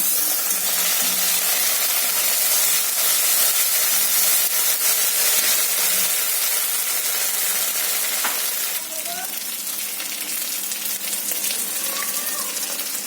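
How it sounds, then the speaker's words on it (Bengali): Chili paste hits hot oil in a frying pan, giving a loud, close, steady sizzle and hiss that eases slightly partway through, with occasional stirring scrapes and faint speech. "এবার লঙ্কা বাটাটা দিয়ে দিলাম।"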